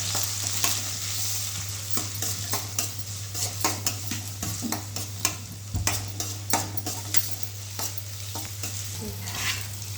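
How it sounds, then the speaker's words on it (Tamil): Onions sauté in a pan with cumin, cinnamon and cloves for a vegetable kurma, a continuous close sizzle broken by frequent sharp scrapes and clinks of the stirring spoon against the pan, over a steady low hum, with no talk. "வெங்காயம் சேர்த்தாச்சு, நல்லா வதக்கிக்கோங்க."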